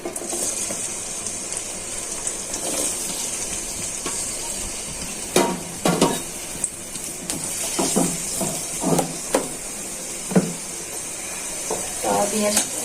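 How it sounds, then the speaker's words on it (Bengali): Chopped onions fry in hot oil with a steady hiss throughout, with clattering stirs and scrapes of a utensil against the pan at irregular intervals. "তেলটা ভালো করে গরম হয়ে গেছে, পেঁয়াজ কুচিগুলো দিয়ে দিচ্ছি।"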